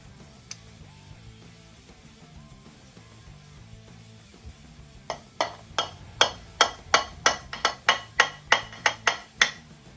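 Stuck bolt on a Yamaha motorcycle engine cover being worked on, a run of about a dozen sharp, loud metallic strikes in a steady rhythm after a quieter stretch of low background hum.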